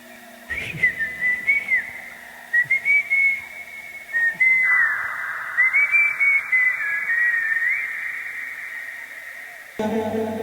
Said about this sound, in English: I'm gonna get a resample of my vocal as I whistle into the microphone